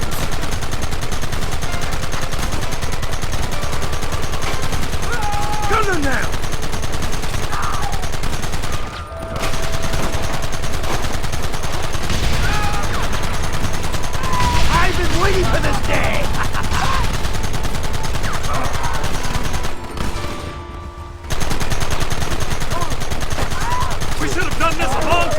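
Gunfire in Red Dead Redemption: dense, sustained volleys of rifle and rapid shots crackling throughout, loud and close, briefly pausing twice, mixed with game sounds and shouted voices.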